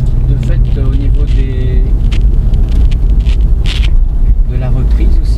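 A Volkswagen Caddy van's engine hums steadily under gentle acceleration while driving, with road and wind noise, beneath continuous close talking.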